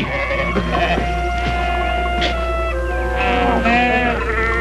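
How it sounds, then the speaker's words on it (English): Sheep bleating on open range land, several overlapping wavering calls close by over a constant low hum, with no talk. "Sheep!"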